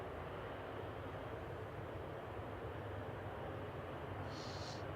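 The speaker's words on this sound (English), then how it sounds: "Logan Air landing from Aberdeen. ATR 72 GLMTD Limited." A Loganair ATR 72 turboprop landing at Manchester Airport produces a faint, steady low rumble and broadband roar at a distance, with no voices.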